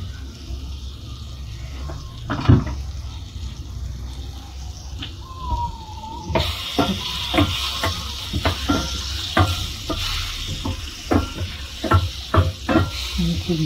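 Butter with a little oil heating in a pan for white sauce penne pasta, crackling in a close steady sizzle that grows brighter partway through, with stirring clicks and a voice talking over it.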